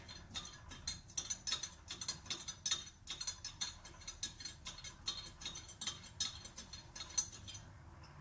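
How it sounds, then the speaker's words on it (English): Kombucha pickle brine is stirred in a jar to dissolve salt, giving a steady run of soft, quick clicking and scraping strokes, faint and close, with no voices. "So let's give this a bit of a mix to dissolve that salt."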